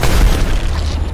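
A loud, deep grenade blast in the battle royale game Apex Legends booms close by and rumbles out over about a second.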